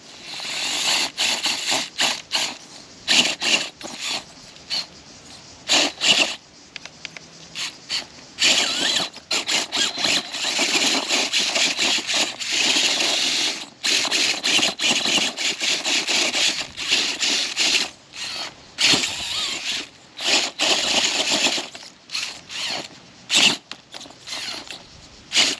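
Drivetrain and transmission of a toy car on a comp build straining hard, a continuous grinding, ratcheting whir with rapid clicking bursts and brief pauses, fairly loud and close, with no talk.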